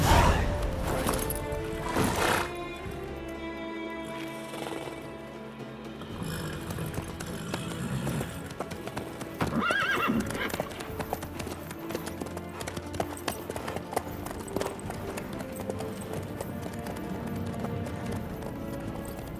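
Horse hooves clip-clop steadily in Witcher 3: Wild Hunt, a running gait layered over a dense game soundtrack with music and ambience throughout.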